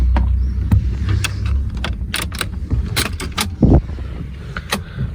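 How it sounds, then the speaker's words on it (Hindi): A key going into the ignition of a 2023-24 Maruti Swift VXI, close-up jangling of the key bunch with a few sharp metallic clicks and a low thump from inside the car. "पहले की इंसर्ट करते हैं।"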